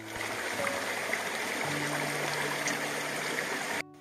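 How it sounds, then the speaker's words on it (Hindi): Water from a mountain stream rushes and splashes at a waterfall, a close, steady wash of sound that cuts off abruptly near the end. "ये पहाड़ी पानी है दोस्तों झरना का"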